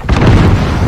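A cruise missile detonates in Call of Duty Modern Warfare, a loud close burst followed by a deep rolling rumble that fills the short moment.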